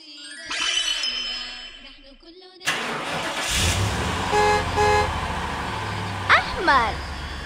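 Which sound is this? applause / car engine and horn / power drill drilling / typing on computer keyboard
car engine and horn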